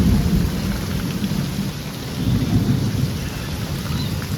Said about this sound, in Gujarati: તો મિત્રો કડાકો થયા ફરી એકવાર.